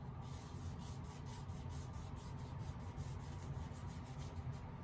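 Cyanotype solution is rubbed over paper, a faint, soft scrubbing and rasping in repeated strokes, close by and quiet, with no talking.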